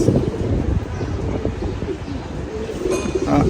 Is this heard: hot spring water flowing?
no